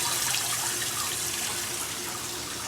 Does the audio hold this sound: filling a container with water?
yes